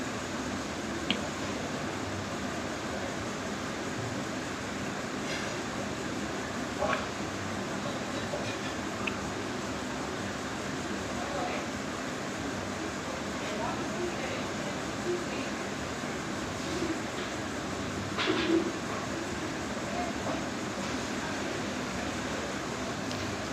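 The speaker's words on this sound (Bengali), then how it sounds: "দেখো এসি ট্রেনটা যাচ্ছে।" An AC local train passing at Andheri station in Mumbai, a continuous broad rumble and whoosh of rail cars with a few clanks, fairly loud and steady throughout.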